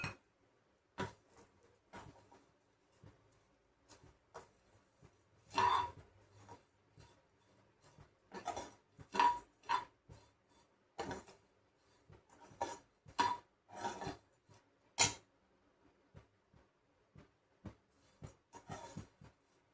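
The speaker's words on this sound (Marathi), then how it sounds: "त्याच्यामध्येच आपल्याला शेवया घालून परतून घ्यायच्या आहे." Vermicelli roasts in a pan while being stirred, heard as faint, irregular clicks and scrapes of a spoon against the pan, quiet and close, with no talk.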